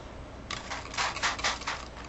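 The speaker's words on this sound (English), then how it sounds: "you're just going to spray" Water misted from a spray bottle onto wet pigment paint: a quiet series of short, breathy hissing bursts in quick succession after a brief silence.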